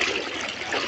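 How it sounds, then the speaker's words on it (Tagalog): Fast, strong current of flood water during a typhoon, a steady broadband rushing wash that stays loud and even for the whole moment with no talk over it. "Ang lakas ng agos."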